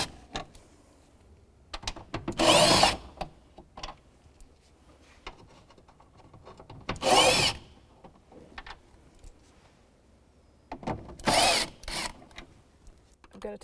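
A cordless driver whirs in three short, loud bursts, backing out T25 Torx screws from the lower plastic kick panel of a 2001-2007 Volvo V70, with quiet rustling between bursts and no talk.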